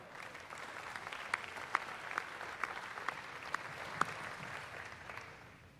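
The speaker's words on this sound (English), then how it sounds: "Another round of applause for our buyers." Steady, fairly distant applause from an audience at a livestock sale of champions at a state fair, honoring the buyers of a market goat, with a few sharper claps popping out of the continuous wash.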